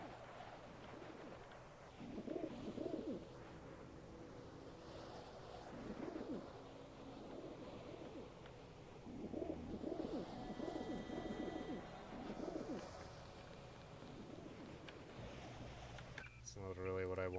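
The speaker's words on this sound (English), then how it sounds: "Oh, those are pigeons." Pigeons cooing in the video game Deus Ex: Revision: soft, repeated bursts of throaty cooing come and go at a low level, with a brief mechanical clatter near the end.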